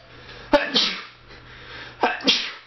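Two loud, close sneezes, each a sharp burst followed by a breathy trail, break up a televised trivia quiz game, with a quiet pause between them.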